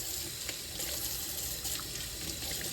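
Water runs steadily from a kitchen tap over freshly harvested romaine lettuce leaves being washed in a sink, a constant close hiss and splash with no talking.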